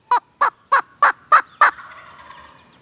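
Six loud, evenly spaced calls from a wild turkey ring out nearby in the open woods, each a sharp burst, then a faint trailing rattle dies away in the quiet afterward.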